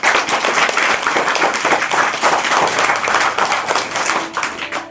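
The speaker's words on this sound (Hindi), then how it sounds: "जोरदार तालियों के लिए धन्यवाद" Loud, dense clapping from a class of students, steady and sustained for several seconds, then tapering off slightly at the end.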